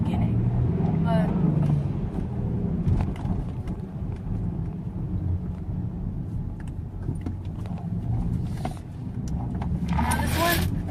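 A 2006 Nissan Frontier two-wheel-drive manual pickup truck drives along slowly through a school zone, its low engine hum and road rumble steady throughout, with someone talking over it.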